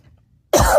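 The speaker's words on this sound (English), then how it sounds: "I lost, like, control of my coughing there for a second." A single loud, close cough bursts out abruptly after a near-silent pause, harsh and throaty, with no talking around it.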